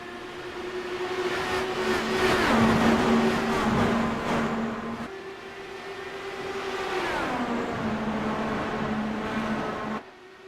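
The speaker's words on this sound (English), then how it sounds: "green flag is out as the 15 goes down and away on his throttle" IndyCar race cars at Michigan roar as they accelerate at the green flag, engines rising to a peak and then dropping in pitch as they pass. A second surge follows before an abrupt cut.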